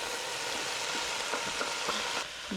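Beans tumble into a pot of chili with a steady wet hiss and sizzle, a few soft thuds and stirring scrapes breaking through the dense, continuous noise.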